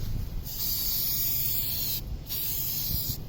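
Spray paint hisses from an aerosol rattle can in short bursts, one brief puff, then a long steady spray and another short burst, close and fairly quiet over low background rumble.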